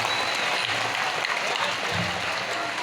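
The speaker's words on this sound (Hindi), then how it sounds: "जोरदार ताली बजाओ" Loud, dense applause from a large crowd at a religious gathering in Bageshwar Dham's divine court, a steady unbroken wash of clapping filling the whole moment with no talk over it.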